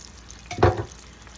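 Water hits a hot pan while pasta alla Norma cooks, giving one short hissing sizzle that swells and fades within a second in a quiet kitchen.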